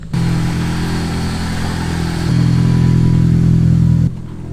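A 4AGE-powered drift car's engine drones from inside the cabin, a steady loud hum that rises to a higher, stronger pitch midway as the car accelerates, then drops off sharply.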